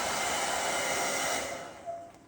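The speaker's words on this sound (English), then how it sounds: "So you just add some heat from the blow dryer and it'll help to expand the bag" A hair dryer blows hot air steadily and loudly onto PVC bags to expand them, a continuous rushing whoosh that fades toward the end as it is switched off, with no talking.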